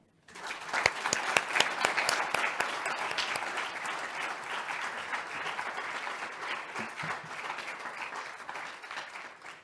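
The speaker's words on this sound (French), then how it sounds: "je vous propose collectivement de les remercier en les applaudissant" A crowd at a conference applauds steadily for several seconds, dense clapping that starts abruptly and fades slightly at the end.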